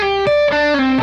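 A distorted electric guitar plays a short pentatonic minor lick, a few sustained single notes with clear pitch changes and wide interval jumps, loud and close with no talking.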